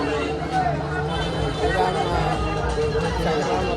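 Dense crowd hubbub at a village fair (jatra) in Ratnagiri, overlapping voices and chatter forming a steady, fairly loud wash with no single voice standing out.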